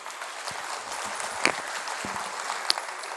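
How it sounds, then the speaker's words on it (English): Parents in a school audience at an annual function applaud, moderate clapping spread across the hall with a couple of sharp individual claps popping out near the front. "I think that calls for an applause"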